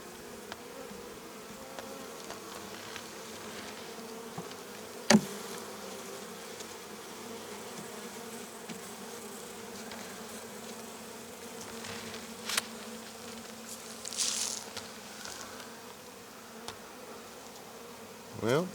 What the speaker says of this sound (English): They're pretty calm this morning, the bees are.